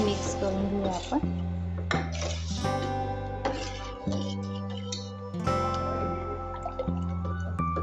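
Dal made from masoor, moong and toor lentils, cooked thick and tempered, stirred in a pot: repeated close metallic clinks and knocks of a spoon against the pot, steady throughout under a sustained musical background.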